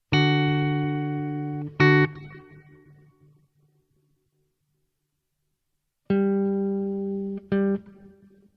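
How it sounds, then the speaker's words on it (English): Guitar notes through a TC Electronic 2290 delay with the high cut turned down: two pairs of struck notes, each followed by repeats that fade and grow duller, with silence between the pairs. "you're starting with brighter repeats, and each repeat is removing high end"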